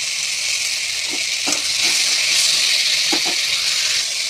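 Chopped tomatoes hit a hot pan with a steady, bright sizzle and hiss, a few soft stirring knocks rising now and then, close and fairly loud throughout.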